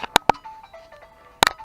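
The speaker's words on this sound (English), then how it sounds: "Phone's ringing." A phone rings in repeated short electronic tones, a burst of two near the start and another pair at the end, loud over a quiet background, with the operator's 2019 Sunward SWE25UF mini excavator nearby.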